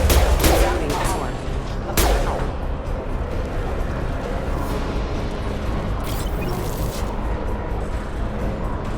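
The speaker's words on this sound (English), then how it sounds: "Taking heavy fire." Heavy gunfire in the video game Mass Effect 2, two strong blasts near the start, then a dense, continuous roar of rapid shots and rumbling battle noise.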